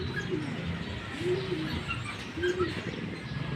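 Pigeons coo softly nearby, a couple of low rolling calls rising and falling over a steady outdoor background with faint chirps, and no one talking.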